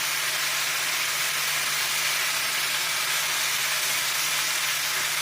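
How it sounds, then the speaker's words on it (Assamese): Goat fat oil hisses and sizzles steadily in a hot pan, a dense continuous frying noise with no pauses and no voices. "এই খাহীৰ তেলখিনি মই ইয়াত দিলোঁ।"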